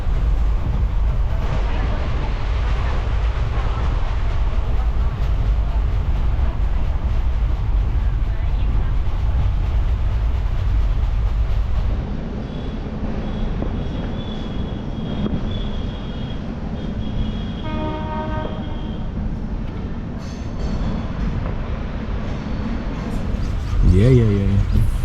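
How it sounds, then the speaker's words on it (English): An overnight passenger train from Ahmedabad to Veraval in Gujarat gives a loud, continuous rumble and rattle heard from on board. Brief squealing tones rise near the end. "I took an overnight train from Ahmedabad to Veraval, an 8-hour train journey covering over 360 kilometers."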